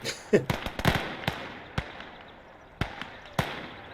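M1 Garand rifle fire in the World War II video game Call to Arms, on the Eastern Front, a series of separate sharp shots, some near and some more distant, spaced irregularly with quiet gaps between.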